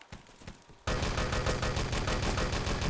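Sustained automatic gunfire from an Enemy Territory match at a 6-on-6 LAN tournament, bursting in loud and dense after a quieter opening second of scattered shots, with rapid overlapping rounds continuing to the end.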